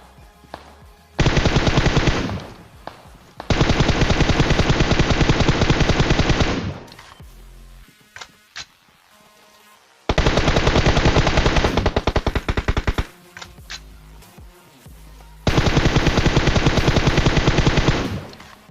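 Battle royale video game gunfire: long sustained bursts of automatic weapon fire, four heavy loud volleys separated by short pauses with a few scattered single shots between them.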